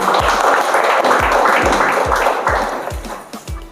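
Loud round of applause for a child contestant answering a quiz question on a kids' reality show, a dense continuous clapping wash with steady rhythmic beats underneath, fading slightly toward the end.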